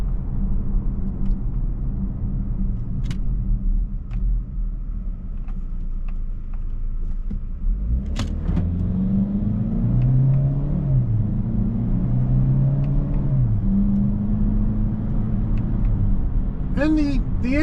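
A 2025 Chevrolet Equinox LT AWD with an 8-speed automatic drones under acceleration from inside the cabin, its engine note rising and dropping as the gears change, while someone talks over the steady road rumble.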